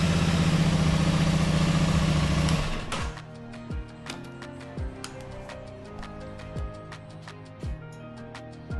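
An Aprilia Tuono 660 motorcycle engine with poor throttle response roars loudly for nearly three seconds, then drops to a steady close idle punctuated by regular clicks and ticks.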